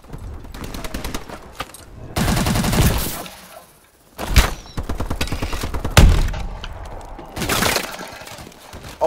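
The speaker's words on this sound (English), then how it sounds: "Oh, it's the dual machine guns" Dual machine guns blaze in Call of Duty: Advanced Warfare, loud rapid bursts of automatic fire with shattering impacts, broken by short gaps and sharp thuds across the span.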